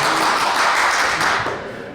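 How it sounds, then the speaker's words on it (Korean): Students and staff at a Seoul sports middle and high school closing ceremony clap for two departing teachers, a brief loud burst of clapping that tapers off. "서로 기본 감사 박수를 보냅니다"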